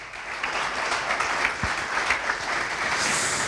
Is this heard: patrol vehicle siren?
no